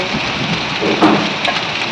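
Heavy rain pours down in a dense, loud, continuous hiss, with a brief rise in intensity partway through.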